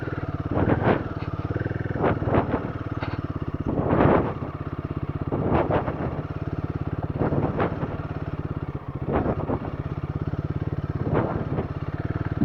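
Motorcycle ridden over rocks on a deep forest trail, the engine droning steadily up close with repeated revving surges and clattering bumps roughly every second or two.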